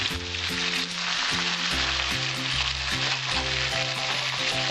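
Cumin paste sizzling in hot oil for a catfish curry, a loud steady frying hiss running throughout under background music with a repeating melody.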